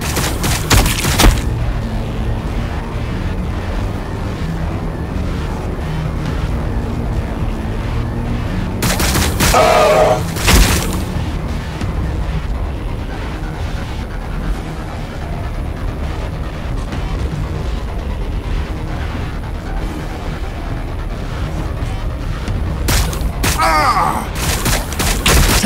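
Gunfire in the Warhammer 40,000: Battlesector strategy game, a dense and continuous rumble of battle with shots and booms blending together, and a few louder bursts standing out from the din.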